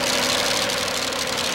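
A two-wheel drive truck's engine rumbling loudly at a tractor pulling event, with a dense, continuous roar heard up close for a brief moment.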